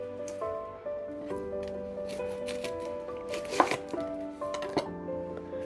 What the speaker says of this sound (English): I'm just going to cut off the ends